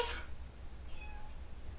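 A cat meows once, a brief close cry at the very start of a TV commercial, fading into a low background hum.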